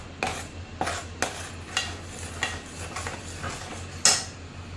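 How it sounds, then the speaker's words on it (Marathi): Chakli dough, with flour being added, is stirred in a metal pot, giving quiet scraping clinks of the utensil against the pot at irregular half-second to one-second intervals, with no voices. "आता हे बघा पीठ घालून घेऊया आणि एकीकडे हलवून घेऊया"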